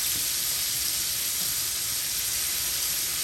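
Scallops sear in a hot pan with a steady, close hiss and crackle that holds level from start to finish, with no voices over it.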